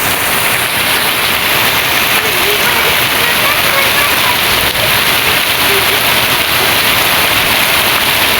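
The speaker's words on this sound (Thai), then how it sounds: "ฝนตกแล้ว" Heavy rain pours steadily and loudly in Trat Province, Thailand, a dense continuous hiss of drops drumming on surfaces with no letup.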